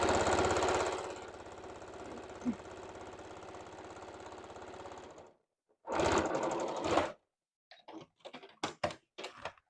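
A sewing machine stitches a qaspeq vest in one long, steady mechanical run that stops abruptly. A short second burst follows, then several quick stop-start stitching spurts, all close and clear.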